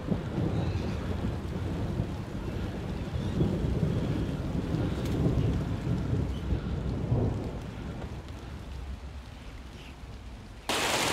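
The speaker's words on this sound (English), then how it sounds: "The rain struck without warning. Thunder and rain, which I'm very pleased." Rain pours steadily outdoors in a garden while thunder rumbles low and heavy through the storm, with some wind buffeting the microphone and a brief sharper burst near the end.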